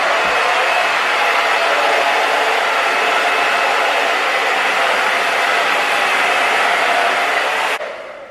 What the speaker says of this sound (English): I'm just gonna get my blow dryer and I'm just gonna scrunch it while I dry it